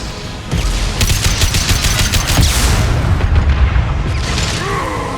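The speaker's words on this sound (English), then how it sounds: "firing concussive shot!" A concussive shot fired in the Mass Effect 2 PC game: a sudden loud boom followed by a dense crackling burst of blasts and rumble that slowly fades, heard up close with no speech.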